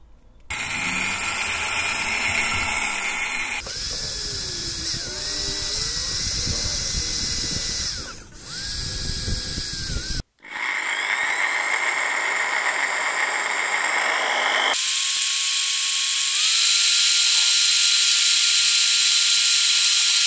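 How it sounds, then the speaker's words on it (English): A small handheld mini drill whines as it bores out a rusted, broken plastic ABS wheel speed sensor on a VW-group car, with loud high-pitched motor runs that shift pitch, stop abruptly and restart over about twenty seconds. "What I'm going to use is a little mini drill to see if that works"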